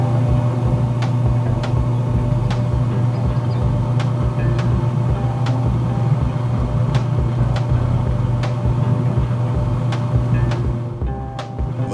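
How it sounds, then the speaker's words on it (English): Slow, steady mechanical hum from a Z Grills Backyard Warrior pellet grill's auger turning, a continuous low drone with faint regular ticks about once a second, close and loud, with no one talking. "the auger is moving very slowly"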